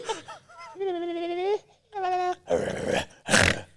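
A person's voice imitates a dog whimpering, with several drawn-out whining, moaning tones rising and falling, followed by breathy growling bursts close to the mic.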